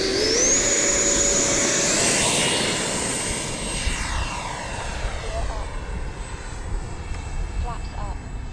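An RC Freewing Cougar jet takes off from grass in a crosswind, its ducted fan whining high and loud, then sweeping downward and fading as it climbs away.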